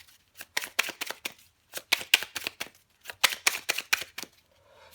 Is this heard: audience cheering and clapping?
no